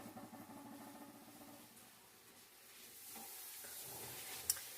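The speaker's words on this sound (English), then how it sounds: "We're going to start stirring it." Taco pasta cooks in a pot with a soft, low sizzle and bubbling while a spoon stirs it. The sound is faint and close, swells gently partway through, and ends with one small clink.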